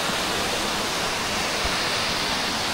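Antong Falls, a waterfall in a forest, gives off a steady, dense roar of rushing water that stays close and even throughout, with no voices.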